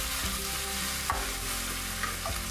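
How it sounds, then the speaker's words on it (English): Tofu and mushrooms sizzle steadily in a hot pan with soy sauce while a spatula scrapes and stirs a few times. "Keep stir frying till well incorporated."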